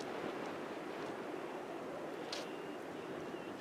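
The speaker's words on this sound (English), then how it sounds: "you can hear the roar of the sea in the distance" Distant sea roar heard from sand dunes at the top of beach steps, a faint, steady broadband wash with a brief gust or rustle partway through and no talking.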